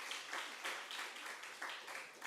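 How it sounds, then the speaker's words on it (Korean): Church congregation applauding to welcome two second-year middle school students, a soft, steady patter of many hands heard from a distance. "박수로 환영해 주시기 바랍니다"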